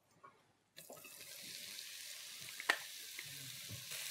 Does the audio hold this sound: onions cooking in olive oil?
yes